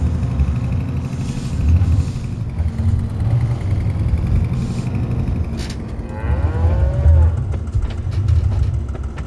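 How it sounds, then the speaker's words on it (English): Cows mooing in the farming video game Farming Simulator 25, several drawn-out moos over a loud, steady low rumble of engine or ambient noise. "Have a quick look at the cows, see how they're getting on."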